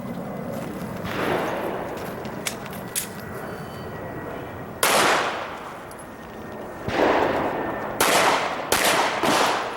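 Gunshots at an IDPA shooting match at an outdoor range, several sharp loud reports in uneven succession, with a pair and a quick cluster near the end, over steady wind and background noise.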